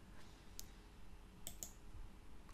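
A computer mouse clicked a few times, three short crisp ticks spaced apart, quiet and close, with nothing else heard.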